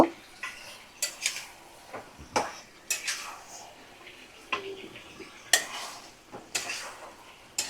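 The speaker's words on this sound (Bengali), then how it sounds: "মশলার সাথে ভালো করে আমি সুন্দর করে নাড়াচাড়া করে নেব" A spoon clatters and scrapes against a pot while mutton is stirred with spices, giving repeated sharp knocks at an uneven rhythm over a soft background sizzle.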